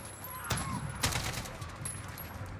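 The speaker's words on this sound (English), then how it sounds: "Shotgun from that range. Well, in Call of Duty," Shotgun fire in the Call of Duty: Modern Warfare realism campaign: two loud, close blasts about half a second apart, with a dense, noisy game soundscape continuing after them.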